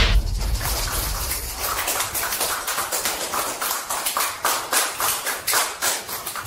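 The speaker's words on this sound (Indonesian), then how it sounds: "Mari kita berikan tepuk tangan meriah untuk menyambut Presiden Wang." Crowd at a corporate gathering clapping in welcome for a company president, a dense wash of applause that settles into a more distinct rhythmic clapping toward the end.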